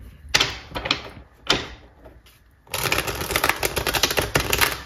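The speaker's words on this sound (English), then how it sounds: "I'm going to shuffle." Twin flame tarot cards being shuffled by hand: a few separate riffles and taps, then a sustained, dense rustle of cards for the last couple of seconds, fairly close and alone with no talk.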